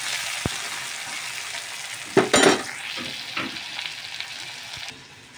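Quiet, steady sizzle of egg stir-frying in a pan, broken by a few sharp utensil scrapes and clinks as it is stirred, with the frying hiss fading out near the end.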